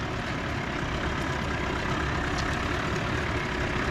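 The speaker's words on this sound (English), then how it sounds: "So I'm just idling. I'll idle until it stalls." A Toyota off-road truck on Kumho MT71 mud tyres idles on a steep mud hill, giving a steady, continuous low engine rumble with broadband noise and no revving, close and constant throughout.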